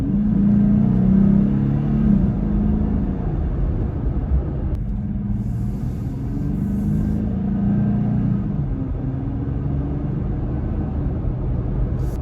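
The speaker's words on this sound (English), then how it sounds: "a little bit of acceleration right here" A Jeep Gladiator fitted with a cold air intake accelerates, giving a loud, continuous low engine rumble that swells and eases slightly as it pulls, heard from close by with no talking.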